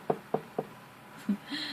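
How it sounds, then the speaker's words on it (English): Knuckles rap on wood three times in quick succession, close and crisp, followed by a fourth softer knock and a brief murmur. "Knock on wood."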